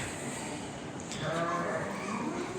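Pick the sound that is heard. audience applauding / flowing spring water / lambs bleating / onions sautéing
lambs bleating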